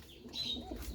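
Danish pigeons give a short, soft cooing call, close by, within about a second of low, murmuring bird sound.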